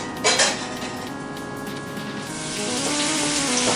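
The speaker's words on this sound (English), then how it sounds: "Now let's take all of this and throw it in this freaking pan." Potatoes and other chopped ingredients are thrown into a hot oiled frying pan with one clattering impact, then a steady loud sizzle and frying hiss that builds slightly toward the end; no one speaks.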